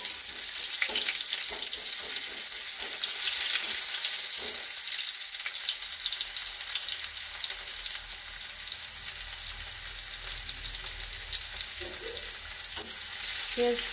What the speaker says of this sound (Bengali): পেঁয়াজগুলো একটু ভাজা ভাজা হয়ে গেলে এর মধ্যে দিয়ে দেবো সমস্ত সবজিগুলো